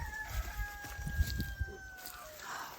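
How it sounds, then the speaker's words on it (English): Chickens cluck softly nearby in short, scattered low calls at a farm's livestock compost area on Maui, with a thin high whine running through the background. "Look at how beautiful the chickens are."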